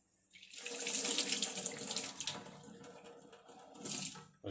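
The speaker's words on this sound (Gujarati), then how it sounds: "અને છેલ્લી વાર ધોઈ નાખીએ આપણે તુવેરની દાળને" Tuvar dal is rinsed in a vessel under a running tap, with a steady gush of water splashing into the grains, starting after a brief quiet moment and ending abruptly.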